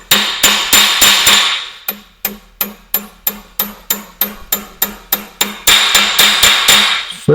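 Loud, steady hammer blows drive 12-penny nails in a quick regular rhythm, about two or three per second, close by, with no talking.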